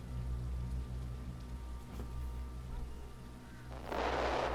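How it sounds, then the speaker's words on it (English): Steady rain pours in a video game, a dense hiss over a low rumble that swells into a louder, brighter downpour near the end. "The rain keeps pouring"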